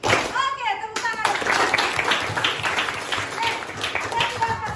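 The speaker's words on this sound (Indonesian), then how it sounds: "Oke, tepuk tangan." Schoolchildren in a classroom clap their hands together in a lively burst, with overlapping claps and young voices chattering underneath, following a moment of talk at the start.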